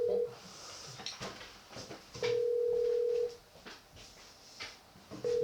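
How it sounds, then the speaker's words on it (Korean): A telephone call is placed and rings out. Long, steady ringback tones repeat with gaps between them, and faint voices murmur in the background. "전화 한번 걸어보겠습니다"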